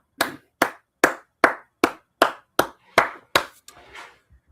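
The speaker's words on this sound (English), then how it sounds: "Clap it up." Hands clap nine times in a steady, evenly spaced rhythm, sharp and close, followed by a softer scuffling sound as the clapping stops.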